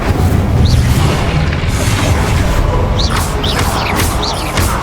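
Spell blasts in the video game Hogwarts Legacy, loud booming bursts over a dense rumbling background with a few bright whooshing zips near the end.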